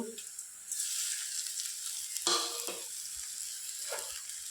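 Garlic, salt, turmeric and sugar fry in a pan with a steady sizzle while being stirred, with a couple of sharp scraping strokes over the continuous hiss.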